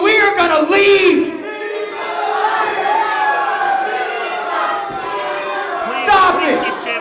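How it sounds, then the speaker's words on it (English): A wrestling crowd at an independent show chants in unison, a loud sustained mass of voices rising and falling together with a few louder shouts near the start and end. "keep chanting Diva, crowd"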